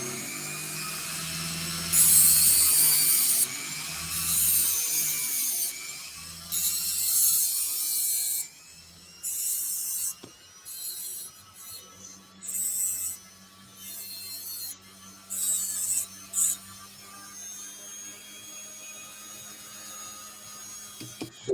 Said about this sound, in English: You had your Dremel on. Sharpen the blade.